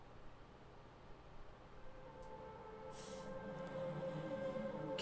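A train rolls along in a scene from the series Loki, a low steady rumble with rising tonal hum and a brief hiss burst, growing slightly louder, with no speech.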